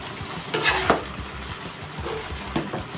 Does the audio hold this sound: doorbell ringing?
no